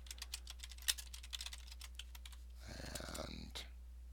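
Quick, light clicks of typing on a computer keyboard, a burst of close key taps with irregular rhythm, then a denser flurry of keystrokes, all fairly quiet.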